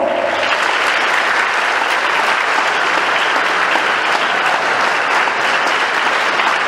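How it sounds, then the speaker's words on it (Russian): A concert audience at a guitar forum gives a sustained burst of loud, dense applause for a guitarist, steady from start to finish. "Я очень рад и благодарен вашим аплодисментам"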